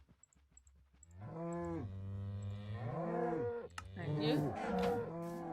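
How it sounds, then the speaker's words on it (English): Cows in the Minecraft video game mooing loudly and close, several long overlapping drawn-out moos rising and falling one after another, with a brief spoken word just before them. "Ooh, those cows are loud."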